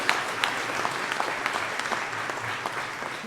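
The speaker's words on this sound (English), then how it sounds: "That is, deserves another round of applause" An audience at a county government annual address gives a round of applause, a moderately quiet spread of claps with individual hand strikes standing out over the general patter.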